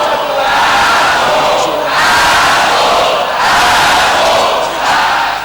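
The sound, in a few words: Finnish wrestling crowd booing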